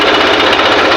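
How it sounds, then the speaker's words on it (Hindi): A farm tractor's engine pulling away in first gear as the clutch and brake are eased out, a loud, steady, rapid diesel chug that fills the sound close-up with no voices. "ये हमारा ट्रैक्टर जो है आगे बढ़ने"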